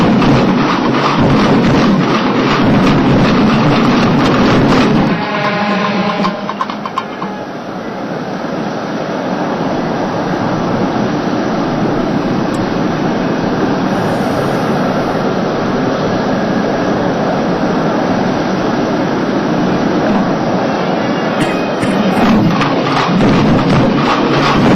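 Chinese President Xi Jinping's airplane arrives in Chennai with a loud, steady jet engine roar that dips briefly before surging again and persisting throughout.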